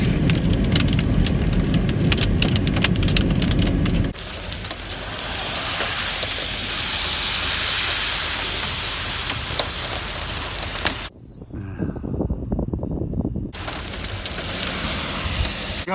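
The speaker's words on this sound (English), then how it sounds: "Some hail." Hail pelting down during a low-topped rotating supercell near Urbana, Missouri, a dense, steady clatter and hiss loud at first, softening after a few seconds, briefly cutting out, then resuming.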